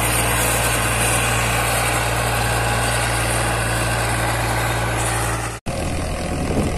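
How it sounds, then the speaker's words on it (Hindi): Powertrac 439 Plus DS tractor engine running steadily in the field with a harrow, a loud continuous diesel drone with strong low hum and vibration, briefly cutting out near the end before resuming. "दोस्तों बताओ ट्रैक्टर की परफॉर्मेंस कैसी है, चाल कैसी है, कोई दिक्कत लग रही है या सही चल रहा है"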